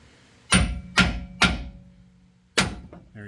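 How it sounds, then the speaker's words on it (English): Four sharp metallic hammer taps on a vehicle driveshaft in a garage, three in quick succession then a pause before a fourth, close and loud with ringing decay. "so I'm going to use a hammer"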